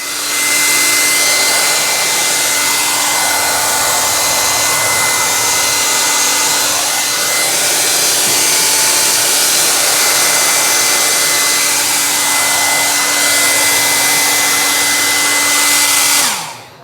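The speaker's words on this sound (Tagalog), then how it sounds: "Then clean and dry it with a hair dryer." A hair dryer drying a bathroom corner blows loudly and steadily for the whole stretch, a constant whooshing whine with a motor hum, then switches off at the end.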